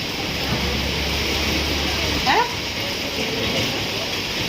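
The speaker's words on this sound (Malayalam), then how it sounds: "നല്ല രസമാണ് മഴ കൊള്ളേ." Rain pours steadily outdoors in Kerala with a dense, even wash of falling water close by. A short, brighter sound rises briefly about halfway through.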